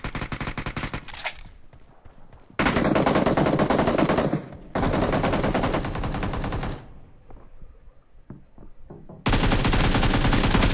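Bursts of automatic gunfire in the BGMI battle royale video game, loud rapid rattling volleys that start, stop and resume in several long strings with brief quieter gaps between them.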